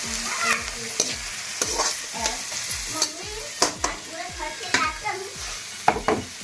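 Onions fry in a pan and a spoon stirs them repeatedly, making a soft sizzle beneath a run of regular scraping strokes that come about twice a second, close up and moderately quiet.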